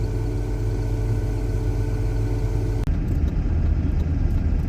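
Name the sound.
Duramax pickup truck driving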